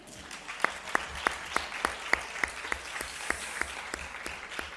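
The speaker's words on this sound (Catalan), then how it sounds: "podeu aplaudir" Audience applause at the opening session of a conference on sexual violence in public spaces, a steady patter of many hands clapping with sharp individual claps standing out, moderately close, with no talk over it.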